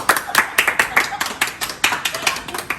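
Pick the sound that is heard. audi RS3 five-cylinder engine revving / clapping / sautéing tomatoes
clapping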